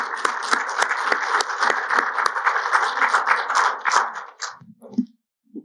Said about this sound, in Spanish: les pido un aplauso para ella y bienvenida